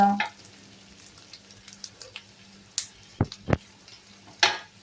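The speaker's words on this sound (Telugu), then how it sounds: "అల్లం వెల్లిపాయ పేస్టు, అలాగే కరివేపాకును కూడా వేసి కలపాలి. ఎల్లిపాయ పేస్ట్ వేగాక" Ginger garlic paste and curry leaves fry in a pan with a steady, soft sizzle, broken by a few sharp stirring clicks and scrapes.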